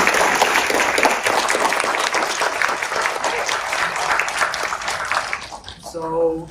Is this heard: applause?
yes